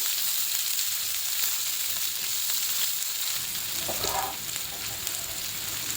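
Thin lengthwise-cut potato slices fry with whole spices like cinnamon in a pan, giving a continuous bright sizzle with occasional stirring scrapes. The sound is close and steady, and no one speaks.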